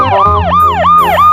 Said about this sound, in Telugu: సార్ కొంచెం సైరన్ ఆన్ చేయండి సార్